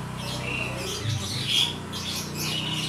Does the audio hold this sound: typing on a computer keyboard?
no